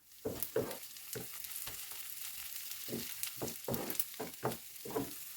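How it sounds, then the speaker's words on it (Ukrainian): Soft, continuous sizzle of onion frying in oil, with occasional scraping stirs in the pan, fairly quiet and close. "Для початку нам потрібно обсмажити цибульку."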